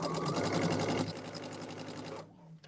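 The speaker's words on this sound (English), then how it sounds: "And I'm just sewing this. This is strip piecing." A sewing machine stitching strip-pieced quilt blocks for a sampler quilt runs in a steady, close, rapid whir for about two seconds, then stops abruptly with a brief faint click afterward.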